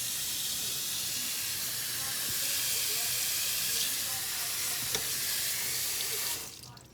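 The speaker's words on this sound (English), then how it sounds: "the remaining ones I let them soak in some chilled water, especially down at the stems." Tap water running steadily into a sink over mustard and turnip greens set to soak, a loud, even hissing rush close by that cuts off abruptly near the end.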